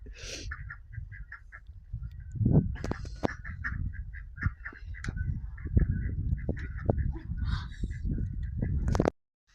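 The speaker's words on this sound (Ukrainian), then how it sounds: "З качками качка побігла до качурів, до Тайсона і до Джексона" Several ducks quack and honk noisily nearby, overlapping calls in irregular bursts, with a faint higher bird chirp repeating in the background.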